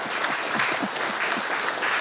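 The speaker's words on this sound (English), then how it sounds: "How about a round of applause for Jade, everybody?" At a Tulsi Gabbard campaign town hall in Sterling, a crowd applauds a volunteer, a steady even roar of clapping throughout with a faint voice beneath.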